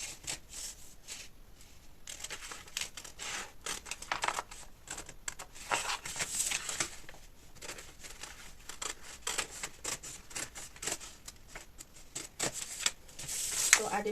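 Quiet, crisp snipping of scissors through fabric, repeated in irregular bursts, close by, with soft rustling between cuts.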